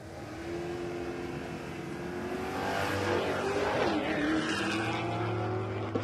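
A Mazda RX-7 drag car launching off the line at Warwick Dragway, Australia, engine note rising hard with gear changes and tire noise, loud and fairly close, with a second engine droning beneath.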